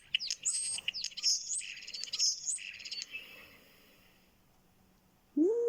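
European starling calling close by, a busy run of sharp whistles, chirps and rattling notes for about three seconds, then a pause and a brief lower whistle at the end.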